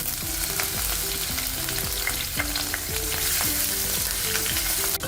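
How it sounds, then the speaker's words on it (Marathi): Paneer cubes frying in hot oil for pepper paneer, a loud, steady sizzle and crackle that fills the whole stretch, with a low bubbling bed beneath and brief tonal clinks of a utensil stirring, with no voices. "आता तेल तापल्यावर त्यामध्ये हे पनीरचे क्यूब्स करून घेतलेले आहेत मी, ते थोडेसे फ्राय करून घ्यायचे आपल्याला"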